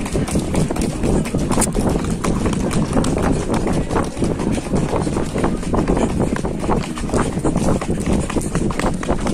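Hooves of a mare clip-clopping steadily in a marching gait during a horseback cavalcade ride in Sorocaba, Brazil, a continuous close rhythm under wind noise and occasional voices.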